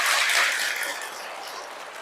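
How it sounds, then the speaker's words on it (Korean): A Catholic congregation claps together during a sermon, a dense, steady patter of many hands that starts loud and tapers slightly over about two seconds, with no talking over it. "그렇게 되고 싶은 사람 박수 한번 쳐보세요."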